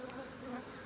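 A steady, close hum of honeybees buzzing at a hive with drone comb, droning continuously without any voices.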